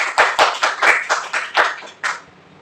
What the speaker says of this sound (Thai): เก่งมากครับปรบมือครับ